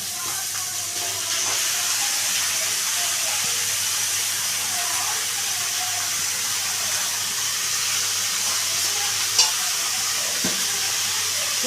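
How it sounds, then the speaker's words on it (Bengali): Cabbage being stir-fried with fish heads and spices for a Bengali dish, a loud, steady sizzle and hiss throughout with faint scraping stirs and one brief clink, no talking. "এবারে আমি এই বাঁধাকপিটা পুরো ভালো করে কষিয়ে নেব যতক্ষণ না এটা একদম মাখা মাখা হয়ে যাচ্ছে"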